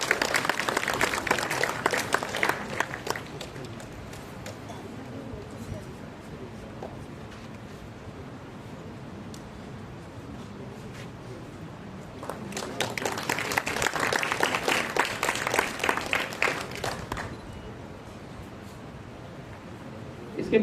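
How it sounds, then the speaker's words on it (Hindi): Applause at a Jamia Millia Islamia board result celebration in 2025: two loud bursts of crowd clapping, one at the start and another in the middle, with quieter room murmur and rustling between them. "एक बार जोरदार तालियां हो जाएं।"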